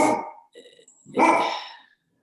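An Airedale terrier barks close by, two loud sharp barks separated by a brief lower growl-like sound.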